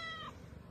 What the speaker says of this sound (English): I'm just getting some loving with my cats.